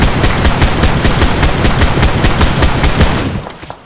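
Sustained automatic gunfire from a PUBG Mobile scrim match, loud and dense, with rapid overlapping bursts for several seconds before it abruptly drops off near the end.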